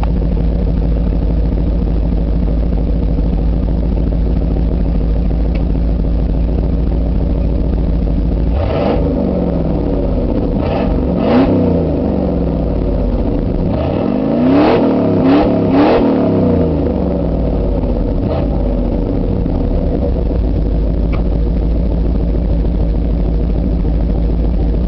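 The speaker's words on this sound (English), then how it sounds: "I'll let you know what the exhaust sounds like." A 1989 Ford Bronco XLT with a straight-pipe exhaust and a high-flow cone air filter idles with a deep, loud burble. Several throttle revs rise and fall in the middle stretch, and no one talks.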